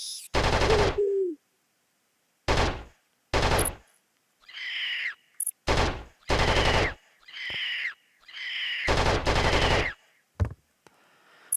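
Trap guns firing in the retro game Flashback, loud staccato bursts of gunfire repeating in short volleys separated by silences, with electronic warbling tones between some of the bursts.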